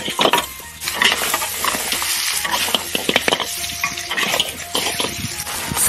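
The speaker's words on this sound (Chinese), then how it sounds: "倒入炸好的排骨，小火给它翻炒均匀" Large fried beef ribs being stir-fried over low heat with Sichuan peppercorn, salt, vinegar and garlic: a steady sizzle under scraping stirs and occasional clinks of utensils against the pan, close and continuous.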